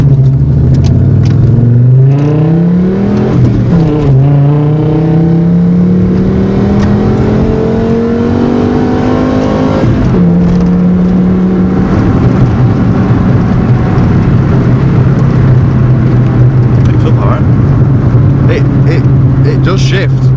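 A 1980s B2 Volkswagen Passat driving on a 60 mph road, its engine droning loudly and rising in pitch through the gears with audible shifts, while people talk inside the car.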